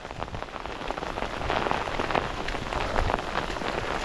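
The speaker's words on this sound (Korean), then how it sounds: "지금 비가 미친 듯이 내리고 있어요" Heavy rain pours down during a bass fishing trip on a stormy day, a dense steady patter of drops hitting nearby surfaces, loud and close, swelling slightly midway, with no voices.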